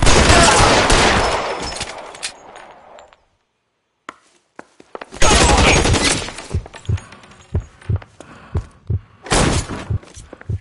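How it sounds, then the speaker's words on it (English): Gunfire in an L.A. Noire shootout: a loud sustained burst of shots, a brief silence, then another heavy volley followed by separate sharp single shots in an uneven rhythm. "Shots fired."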